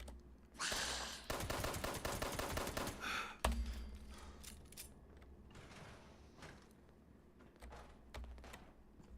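Rapid automatic gunfire rattles in bursts in the video game Fallout 76, followed by quieter mechanical clicks and game ambience; the shots are loud and close at first, then the scene settles.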